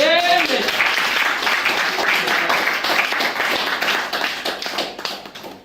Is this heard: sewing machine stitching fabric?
no